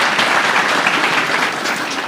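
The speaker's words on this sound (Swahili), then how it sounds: "tumpigie makofi" Audience applause at a Kapsabet High School event in Nandi County, loud sustained clapping from a large crowd, dense and continuous for a couple of seconds.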